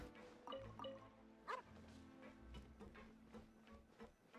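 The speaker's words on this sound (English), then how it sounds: "Oh, look at that dog." A dog in Genshin Impact barks a few times in short yips against game music and small dripping, ticking effects, fairly quiet and with nobody talking.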